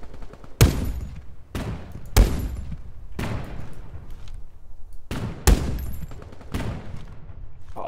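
Sniper rifle shots ring out in the multiplayer shooter Tip of the Spear: Task Force Elite, about six sharp cracks spaced a second or so apart, each with a booming tail over constant distant battle rumble.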